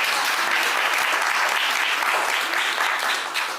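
Loud continuous applause fills the hall at a Montego Bay Community College graduation, a thick wash of many hands clapping at even strength, easing slightly just before the end.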